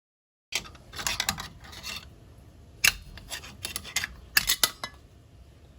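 A small handheld cutting tool works through a section of a 2016 Mustang GT brake assembly with scraping, rasping bursts and sharp metallic clicks in uneven spurts, close and fairly loud.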